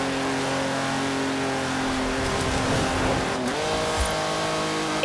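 A Jaguar E-Type's engine drones steadily as the car drives in the Forza Horizon 4 racing game, a loud, constant revving note with a brief pitch shift partway through and no talk over it.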